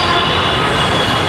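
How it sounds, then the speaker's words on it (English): A metro train passes a station platform in Hyderabad with a loud, continuous roar, rumbling wheels and a squealing edge, filling the moment close by without letup. "That's the metro platform."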